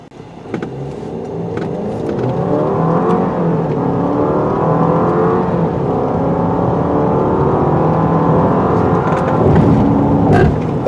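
A 2019 Jeep Cherokee Trailhawk's 2-liter turbo four-cylinder pulls hard under acceleration, a loud, steady engine drone rising and falling in pitch as it climbs through the revs, heard from inside the moving SUV.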